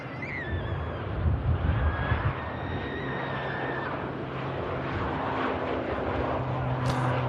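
An Aer Lingus ATR turboprop at Manchester Airport runs with a steady droning engine and propeller hum, a few faint whines sliding in pitch over wind and outdoor ambience.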